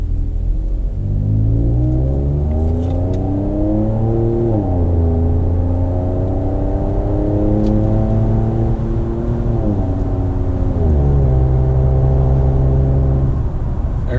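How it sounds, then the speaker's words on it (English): A 2019 Ford Edge ST fitted with a Borla S-Type exhaust accelerates with windows up, its engine note rising steadily through several gear shifts toward highway speed, loud and droning from inside the cabin, with no talk. "I've got the Borla S-Type exhaust on it"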